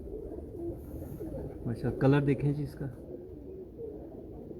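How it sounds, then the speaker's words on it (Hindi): Teddy pigeons in a Karachi breeder's loft coo in low, throaty bursts underneath a voice, which swells briefly in the middle before settling back. "कैसे मोटे कांटेदार कबूतर है।"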